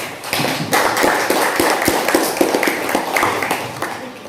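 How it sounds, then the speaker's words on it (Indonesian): Classroom applause for a student group, a scattered burst of hand claps and taps from a small crowd of students, fairly close and steady for a few seconds with a little background murmur. "Jadi kita beri tepuk tangan dulu untuk kelompok MOS."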